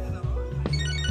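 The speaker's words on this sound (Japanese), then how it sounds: "電話" A telephone rings in the video game Catherine: Full Body, with steady electronic ringing tones over a continuous musical background.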